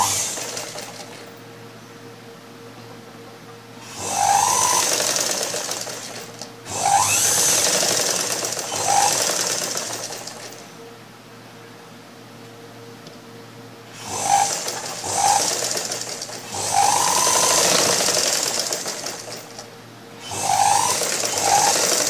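Sewing machine stitching the shoulder-to-neck joint of a blouse front, running in several separate bursts of a few seconds each, with quiet pauses between them.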